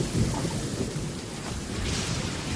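Rumbling thunder rolls under steady, close rainfall in a stormy scene from the game Genshin Impact, a continuous dense wash of rain with deep low booms throughout.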